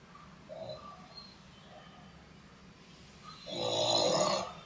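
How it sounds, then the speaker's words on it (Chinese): A snoring-like sound comes from an iPhone 16 Pro Max, a soft low rasping breath followed by a louder, longer drawn-out snore near the end, quiet and close. "我的手机在打呼噜"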